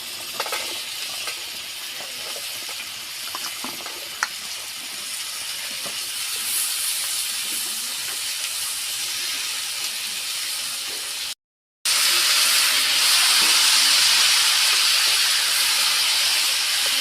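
Washed, cut potatoes dropped into hot oil in a pan: a loud, continuous close sizzle and hiss that jumps louder after a brief break, steady throughout with no talking.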